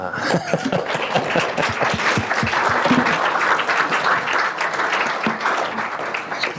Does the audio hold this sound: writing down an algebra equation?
no